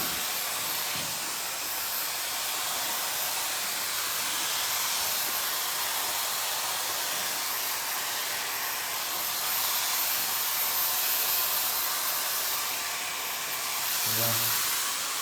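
A hair dryer blows steadily throughout, finishing off a men's modern mullet haircut in a salon, with a continuous loud airy hiss.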